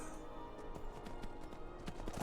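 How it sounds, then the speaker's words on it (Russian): Horse hooves clip-clopping in the video game Skyrim, a steady rhythmic trot of repeated soft thuds over a constant background bed of game sound, with no voices. "Эх, пошли, мой верный конь."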